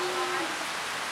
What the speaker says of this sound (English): It's literally so rainy.